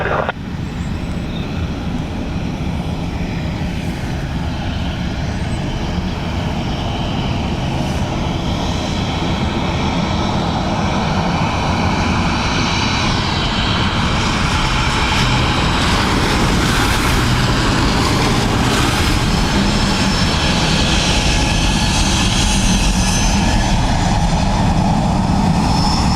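A fixed-wing airliner lands on runway 28 left at Dublin Airport, its engines a continuous loud roar that swells and shifts as it passes, steady throughout without talk.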